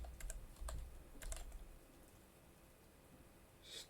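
Quick bursts of typing on a computer keyboard, a few clustered keystrokes near the start followed by quiet, close and fairly soft.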